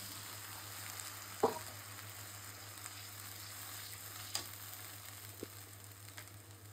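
Dried fish and onion sizzle softly in a pan with a steady low fry, broken by a few faint clinks and stirring knocks, the gentle crackle continuing throughout.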